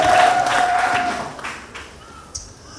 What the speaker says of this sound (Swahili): mpigie Yesu makofi ya shangwe na vigelegele